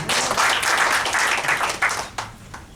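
A church congregation in Surabaya claps during a worship service, a brisk burst of many hands that fades out over about two seconds, ending in a few scattered claps.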